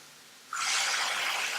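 A sudden loud sizzle erupts as red wine hits a hot pan, a bright hiss that keeps going steadily.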